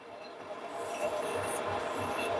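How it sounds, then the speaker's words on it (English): Hand file or deburring tool scraping the burr off a drilled hole and chamfering it in a Triumph bike frame, a soft rasping rub with a few short strokes, close and fairly quiet, with no talk. "just gonna break that burr off, look, and then chamfer that hole"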